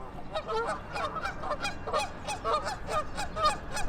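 Canada geese at a zoo honking repeatedly in a rapid, uneven series of loud nasal calls, several birds close by and overlapping, with no talk.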